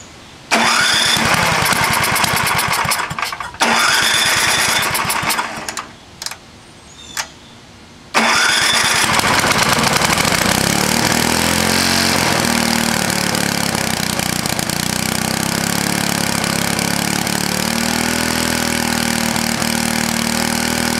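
A vintage, rusty snowblower engine is pulled over, sputters and catches, then settles into a loud, steady running drone close by, with a brief dip and stumble before it smooths out and keeps going.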